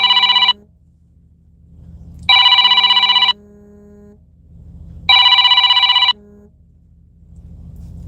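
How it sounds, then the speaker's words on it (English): A phone rings with an incoming call, three bursts of a loud electronic ringtone at regular intervals with quieter background noise and a lower tone between them. "Yes, Cash is calling."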